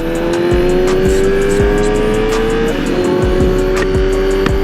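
A motorcycle engine runs steadily at high revs, its droning tone rising slightly and holding, with sharp intermittent clicks and ticks over the top.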